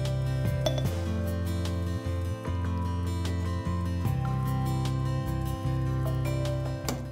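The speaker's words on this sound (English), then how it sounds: "I'm just using a large tablespoon to gently spoon it in" Tablespoon spooning piccalilli into warm glass jars, with a steady run of light clinks and taps against glass over a continuous low hum, no talk.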